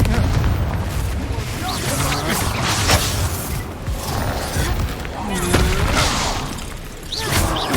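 A Confringo fire-blast spell goes off in a video game battle, with loud booming, crackling explosions stacked over a dense, continuous action soundtrack and voices.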